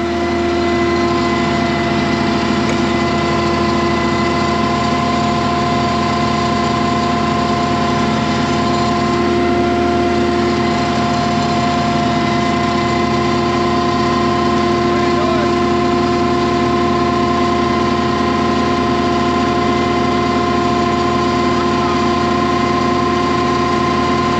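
A John Deere tractor's engine runs steadily as the machine moves along, a continuous droning hum with a constant pitch that holds close and loud throughout, with no voices.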